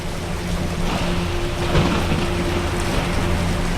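Steady rain and a thunderstorm, with a continuous wash of rainfall and a low rumble of thunder swelling under it, no voices.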